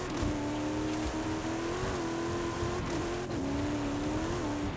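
Racing car engine in Forza Horizon 5 gameplay, a Range Rover Velar among other cars on track, a steady loud drone whose pitch wobbles and rises with revving and gear changes, continuous throughout with no talk.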